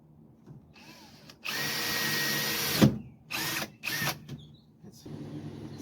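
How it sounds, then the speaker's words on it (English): A power drill whirs in several bursts, drilling a hole upward into a 2012 Sprinter van, one long steady run followed by shorter spurts, close and clear against near silence. "you want to drill a hole upwards about 3/4 inch"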